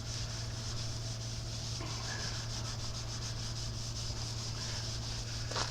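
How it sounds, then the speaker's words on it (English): Steady, continuous scrubbing on the rusty chrome of a 1976 GMC K10 squarebody 4x4 truck, a close, even abrasive rubbing that holds without pause. "got all the scrubbing done"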